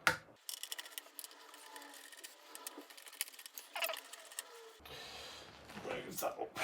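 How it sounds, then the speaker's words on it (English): Small metal screws being undone from the casing of an Emu MP-7 Command Station synthesizer during a strip-down, producing close, quiet scraping and rubbing clicks with a brief handling clatter near the end. "Let's undo the screws."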